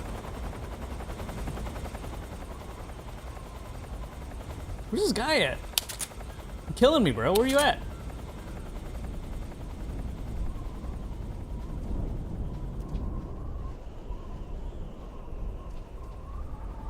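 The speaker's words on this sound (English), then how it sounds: "I'm curious if the helicopter will see us." Helicopter in Metal Gear Solid 3 Snake Eater, a steady rotor drone through the scene with a couple of brief bursts of gunfire, while a player talks over it.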